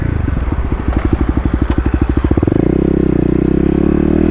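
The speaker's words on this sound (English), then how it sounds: "one more wheel spin" A Kawasaki KLX250 dirt bike spinning its rear wheel in a burnout, loud and close, with rapid pulsing engine beats that climb in pitch and then hold at a steady high roar.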